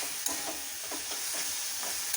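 Spices being sautéed in a pan for chicken kedgeree, a dense continuous sizzle with soft stirring scrapes throughout, close and fairly loud.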